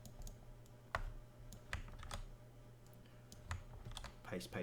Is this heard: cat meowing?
no